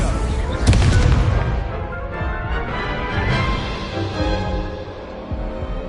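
Incendio fire spell cast in a Hogwarts game, a burst of crackling, booming magical impact followed by rumbling, sizzling game effects that fade gradually.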